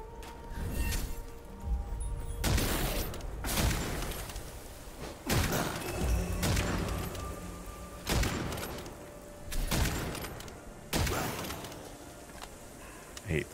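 Frost grenades go off in Witchfire, a roguelite first-person shooter, as a series of sharp, fairly quiet blasts spaced a second or two apart, each with a short crackling tail over a low, humming game background.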